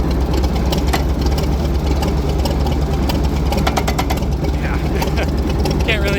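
Engine of a McCormick Deering 10-20 tractor running while being driven around a yard, a loud, continuous close chugging drone with steady rhythmic knocking throughout.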